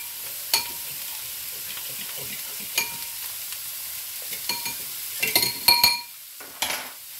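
Chicken chow mein ingredients tossed in hot oil in a pan, a steady sizzle with scattered sharp clinks and scrapes of a utensil stirring, growing busier toward the end.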